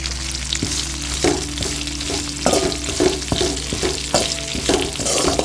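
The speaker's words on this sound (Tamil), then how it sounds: "நல்லா வதங்கிட்டு வெங்காயமெல்லாம் இந்த அளவுக்கு வதங்கிடுச்சு. மிளகாய் வெங்காயமெல்லாம் கருவேப்பிலையை சேர்த்துக்கலாம்." Onions, chilies and curry leaves sizzle steadily as they sauté in a pan for karuveppilai chutney, with frequent scrapes and knocks from stirring, heard up close with no talking.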